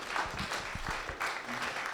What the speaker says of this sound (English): why don't you give me a response by an applause?